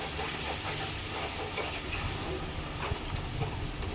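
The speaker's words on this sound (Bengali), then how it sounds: "এবার এটাকে আমি ভালো করে ভেজে নেবো" Ground cumin, coriander powder and turmeric fry in a pan for a Bengali yogurt fish curry, giving a continuous soft hiss of sizzling oil with faint scraping underneath.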